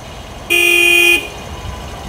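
A single Toyota Urban Cruiser horn honks once during a service inspection, a steady loud blare lasting under a second against faint background noise.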